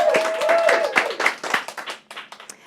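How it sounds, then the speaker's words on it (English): Audience at a nonprofit fundraising gala clapping in a scattered, uneven burst that thins out and fades within a couple of seconds, with faint voices mixed in. "We can clap."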